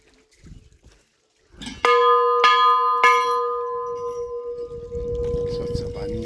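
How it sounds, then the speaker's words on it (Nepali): A large bell at the hilltop Bhuvaneshwari temple near Jitpur Phedi rings out in three loud, close strikes about half a second apart, each leaving a long sustained hum, with faint voices around it. "ठुल्ठुलो घन्टी बजाइदिउँ।"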